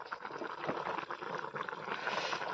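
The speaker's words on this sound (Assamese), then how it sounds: "উতল শুনিছে নাই বন্ধুসকল? উতলি আছে।" Local chicken curry bubbles in a pot with most of its water cooked off, a soft, dense burble of boiling that continues evenly at moderate distance.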